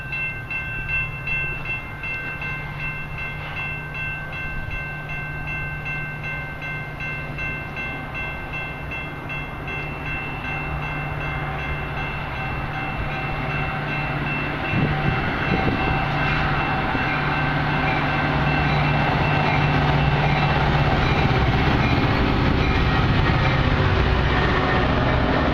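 METRA commuter trains rolling past in Hinsdale, a steady loud rumble of rail cars with a sustained horn-like tone, growing louder toward the end as the train nears.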